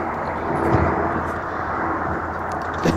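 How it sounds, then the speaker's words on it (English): An airplane in the video game Terraria gives a steady, loud, droning engine roar that holds evenly for a few seconds with little change. "Aeroplane!"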